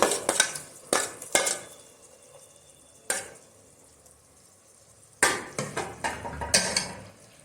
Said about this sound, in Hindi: ये मैंने 2 बड़े टमाटर काटे हुए हैं, अभी वो ऐड करूंगी इसमें।